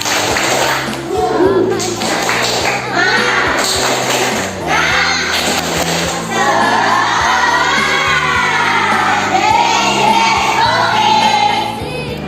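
A primary school class does a rhythmic spirit clap in the classroom, sharp patterned hand claps mixed with children's excited shouting and chanting voices.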